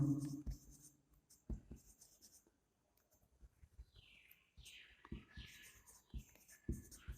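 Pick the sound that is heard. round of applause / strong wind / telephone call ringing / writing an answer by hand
writing an answer by hand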